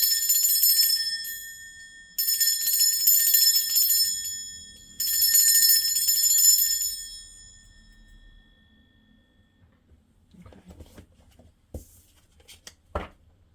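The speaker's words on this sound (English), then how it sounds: "I am going to ring this bell now. This is just to cleanse the space around us." A single bell is rung to cleanse a space, striking three times in a row with bright, shimmering tones that linger, then fade to near silence followed by faint handling clicks.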